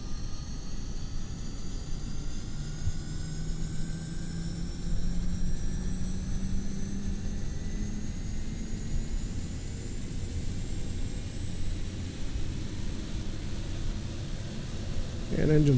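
A Pilatus PC-12 turboprop engine spins up during a start in a flight simulator game, a steady broadband whine and roar with tones slowly rising in pitch over about sixteen seconds, continuous and fairly close.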